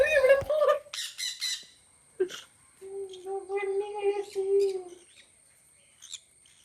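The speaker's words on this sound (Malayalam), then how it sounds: "കിളികളുണ്ട്, പച്ച കിളികളും അതുപോലെ തന്നെ യെല്ലോ കിളികളും" Green and yellow parrots let out loud, harsh squawks in a quick burst, then give softer, drawn-out calls and chirps close by, with quiet gaps between them.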